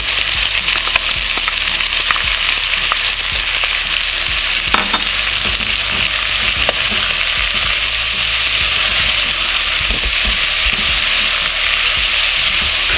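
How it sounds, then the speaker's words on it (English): Onions with red, green and yellow peppers sizzle steadily in a hot pan, a continuous close frying hiss with occasional stirring scrapes and no talking. "you keep on cooking up until your onion and your peppers are soft"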